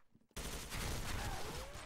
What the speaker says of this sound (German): der gibt nur zwei Schüsse ab, du bist tot